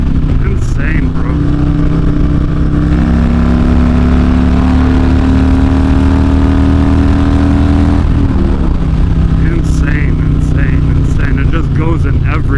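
A Harley-Davidson bagger motorcycle with a Stage II cam accelerates hard on a highway, its loud engine climbing in pitch through gear changes, dropping at a shift, then pulling again amid wind noise, with people talking over it.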